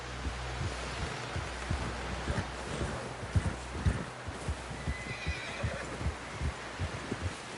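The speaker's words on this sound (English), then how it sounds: "Someone help John down off this horse" A horse snorts and whinnies in Red Dead Redemption 2 while hooves clip-clop in a steady rhythm, with a low rumbling drone underneath.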